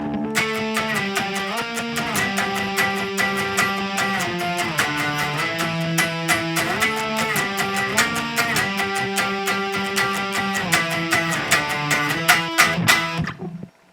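Overdriven electric guitar plays the full chorus of a song, a repeating chord-and-riff pattern for several bars, steady rhythmic picking, loud and continuous, ending abruptly.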